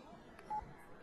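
A single telephone keypad DTMF tone, pressed to select an option in an automated phone menu, sounds briefly and clearly near the middle over faint background voices.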